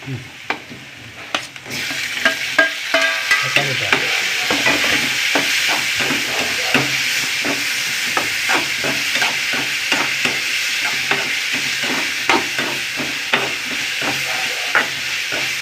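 Onions and tomatoes sautéing in a pan, a loud continuous sizzle broken by frequent rhythmic scrapes and clacks of a spoon stirring, close up and without voices.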